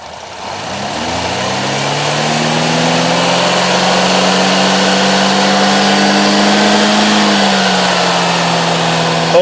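Cadillac SRX4 engine revving up to around 3,000 RPM and holding there, a loud steady mid-pitched drone that rises at the start and stays level, with no talk.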